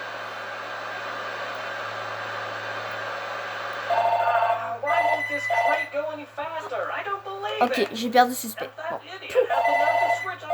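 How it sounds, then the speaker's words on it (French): A steady electronic telephone ring tone sounds for several seconds, then continues faintly beneath someone talking in French. "Désolé si vous entendez une sonnette, parce que c'est le téléphone qui sonne là"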